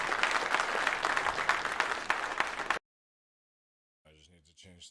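Loud crowd applause on a Star Citizen livestream, steady dense clapping that cuts off abruptly into silence, followed by someone speaking briefly.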